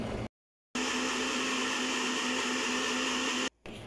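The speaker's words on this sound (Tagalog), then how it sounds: "nahihirapang umikot ang ating blender kaya kailangan nating alog-alogin" An electric kitchen blender straining through a thick, waterless sauce for rice porridge, a loud steady motor whine that cuts out briefly twice as the jar is stopped and shaken, with no talking.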